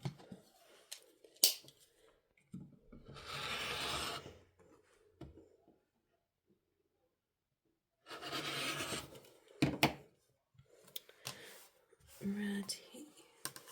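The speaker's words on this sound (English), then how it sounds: "So I'm just going to cut a set of strips at" Fabric strips cut to 2.5 inches for a granny square quilt block, heard as two long, close rasping cuts separated by a quiet pause, with short clicks and handling noises around them.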